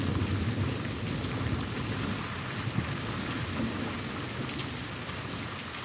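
Steady heavy rain pours throughout a continuous thunderstorm, with low rumbling thunder rolling underneath and a slightly sharper crack near the middle; no voices.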